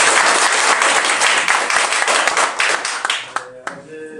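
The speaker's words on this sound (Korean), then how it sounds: "박수로 시작합니다." Loud, dense applause from a large audience at a Korean political party's morning assembly, steady for about three seconds then tapering into scattered claps as a voice begins.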